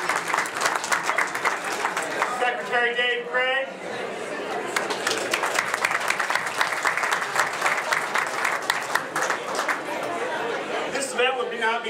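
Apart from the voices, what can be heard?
audience applause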